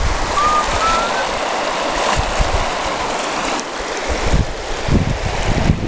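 The Tulameen river running high over covered gravel bars, a steady close rush of fast water with gusty wind buffeting the microphone throughout.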